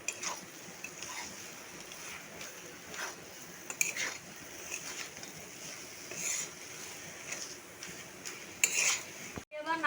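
A spoon stirs banana flower and prawn curry in a pan, making repeated scraping and clinking against the metal over a faint sizzle. The strokes come irregularly and are moderately close, with no talk.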